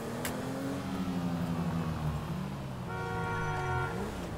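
A car engine revs in GTA while Franklin drives, a steady droning growl that rises and falls in pitch, climbing again near the end with a brief horn-like tone.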